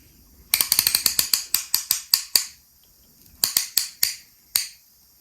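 Ratchet turning the crankshaft of a Nissan VG30DETT twin-turbo V6 during a Z32 engine rebuild, with a fast run of close, sharp clicks, a pause, then a few more spaced clicks.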